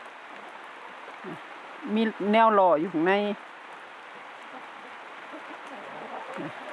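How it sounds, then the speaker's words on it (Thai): Steady rain falls outside a chicken coop of egg-laying hens in America, a continuous wash of patter that runs through the whole stretch, with a voice speaking briefly in the middle over it. "มื่อนี้ฝนตกอีหลี เสียงฝนในยินบ่จ้ะ"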